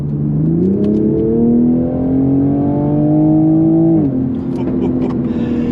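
Toyota Supra in sport mode accelerating hard, its engine note climbing steadily in pitch for several seconds before a sudden drop as it shifts, then pulling again; heard from inside the cabin, loud and continuous.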